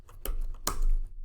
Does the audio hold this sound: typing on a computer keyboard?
yes